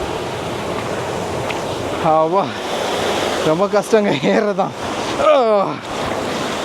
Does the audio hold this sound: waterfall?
yes